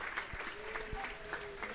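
A small crowd of football fans at a Dumbarton vs Edinburgh City league match claps steadily, a brief burst of applause with a voice speaking over it.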